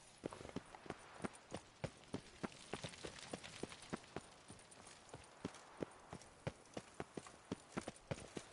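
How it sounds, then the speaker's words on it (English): Steady clip-clop of horse hooves in The Witcher video game, a brisk regular trot of sharp distinct hoof strikes over several seconds, fairly close with little else around. "what just happened with that horse?"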